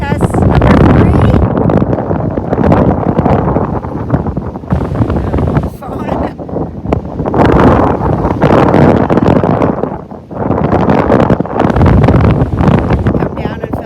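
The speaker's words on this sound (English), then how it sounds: "Air wind test number 3." Heavy wind buffets the microphone outdoors on a solo canoe trip through lake country. The loud, roaring gusts come in surges with brief lulls between them.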